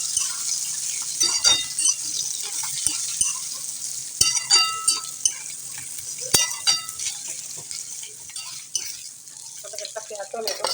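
Ginger and garlic sautéing in a pan for a rustic Maharashtrian black crab curry give a soft sizzle broken by intermittent scraping and clinking stirs, while a person speaks over the cooking.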